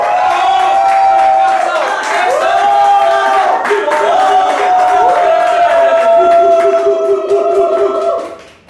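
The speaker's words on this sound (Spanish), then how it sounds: "Pueden volver a aplaudir." A studio audience at a talk show cheers and claps, loud and sustained, with voices whooping and calling over the applause before it fades away at the end.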